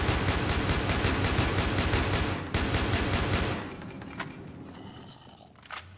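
Rapid, dense gunfire from the Minecraft Battlefield mod video game, a loud continuous automatic stream with a brief break before it tapers off into scattered, fainter shots.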